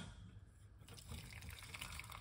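A liquid mixture with lime juice in it is poured off into a container, a steady splashing stream that swells after a quiet start and runs close and continuous.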